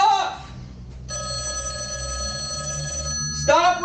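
A telephone bell rings loud and steady for about two seconds, a bright sustained tone, with brief voices and noise at the start and end.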